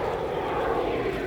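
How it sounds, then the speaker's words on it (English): Fixed-wing airplane flying low over the coastal town of Merimbula on approach to the airport, a steady, fairly loud engine drone filling the short stretch with no talking. "Look at this plane coming in here."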